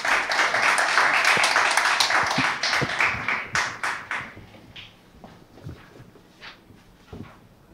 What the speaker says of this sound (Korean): 네, 다시 한번 박수 부탁드립니다